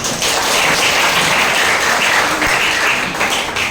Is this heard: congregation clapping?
yes